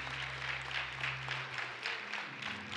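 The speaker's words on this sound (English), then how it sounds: "Let's give him another hand clap of praise." A church congregation claps together in praise during a worship service, with a steady wash of hand claps at moderate level and a low hum underneath.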